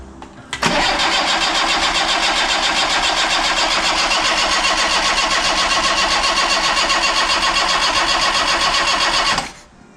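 A Red Sana GL engine cranks over on the starter in one continuous, loud, rhythmic churning run of about nine seconds that never catches, close up and without talking.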